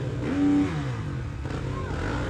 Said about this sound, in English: Guy behind me is pissed, revving at me.